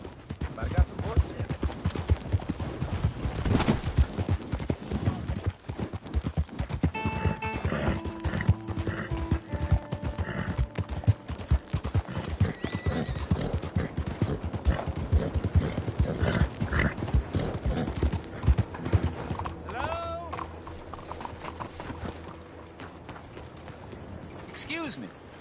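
Horses in Red Dead Redemption 2 clip-clop steadily with occasional neighs, mixed with clanking mechanical sounds and background music while someone talks over the game.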